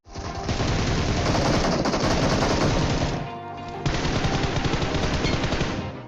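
Rapid automatic M4 rifle fire in a video game roars continuously and loudly, with one brief dip partway through before the sustained burst resumes.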